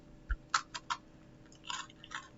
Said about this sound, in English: eat an Oreo